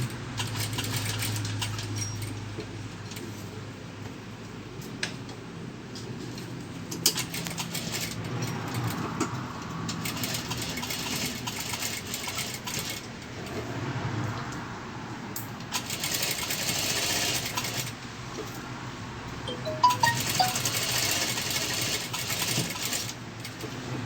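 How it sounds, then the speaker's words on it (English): A sewing machine stitches along the edge of a three-layer fabric face mask, running as a steady, continuous mechanical whir with small clicks and bursts in its speed, heard close and without talk. "we are stitching at the edge of mask"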